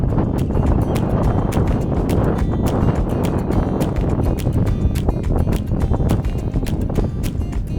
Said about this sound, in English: At Stiff Key, the wind picked up pretty good.